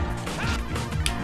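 Heavy smash attacks landing in a Super Smash Bros.-style fighting game, a dense run of crashing, whacking impacts and swooshes packed close together, loud and continuous with one bright hit near the end.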